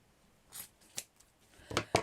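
Scissors snip through paper flower petals in four or five short, crisp cuts, close and fairly quiet, with the last two coming in quick succession.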